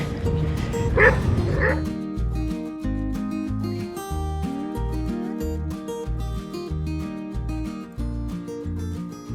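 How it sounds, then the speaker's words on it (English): Dogs in a home garden let out a quick burst of yips and barks near the start, followed by a steady rhythmic musical backing. "And my dogs are in my garden."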